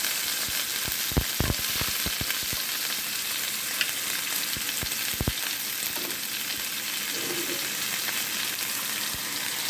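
Tempering seeds and curry leaves fry in hot oil for celery gongura chutney, a dense continuous sizzle with sharp pops and crackles scattered throughout, close and fairly loud.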